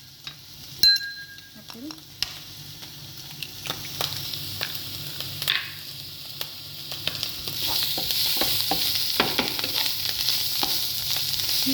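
Food fries in a pan for a breakfast omelette while a utensil stirs and scrapes it, with scattered clicks over a sizzle that builds louder toward the end; a voice speaks briefly.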